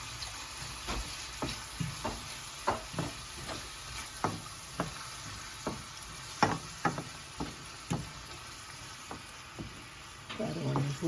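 Ingredients for chicken fried rice fry in a pan, with a low steady sizzle punctuated by regular sharp crackles and pops spaced about a second apart, close and moderately loud.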